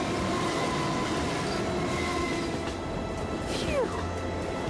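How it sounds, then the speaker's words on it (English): An animated train rumbles out of a tunnel with a loud, steady rolling roar and a brief high wheel squeal near the end, with no talk over it. "It's a tunnel. It's a train."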